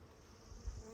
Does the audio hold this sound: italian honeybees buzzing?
yes